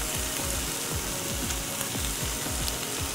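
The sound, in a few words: peppers frying in a pan until crispy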